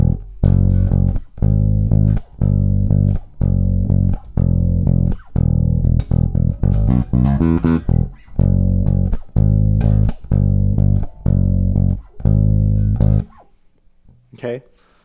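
Electric bass guitar plays the intro lick of a song, with punchy repeated notes landing back on E and a quick run of fast notes in the middle, then the playing stops and a faint tail remains.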